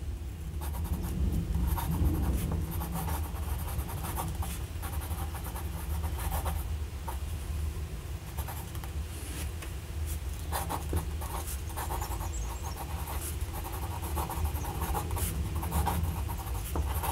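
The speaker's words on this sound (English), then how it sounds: "Let's see if we can do a tiny bit of writing with it." A cheap Carioca Neon fountain pen scratches across paper in a continuous, soft nib-on-paper rasp with short strokes and pauses, close and quiet, with no talking.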